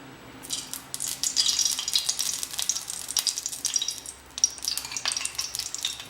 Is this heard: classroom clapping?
no